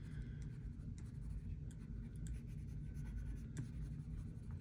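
Crayola colored pencils scratch steadily across paper during colouring, a close, continuous dry rasp with a few sharper strokes, heard alone without talk for several seconds.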